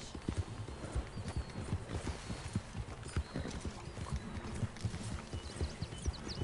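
Rhythmic clip-clop of horse hooves in the video game Red Dead Redemption 2, steady repeated footfalls at a moving gait, fairly close but quiet.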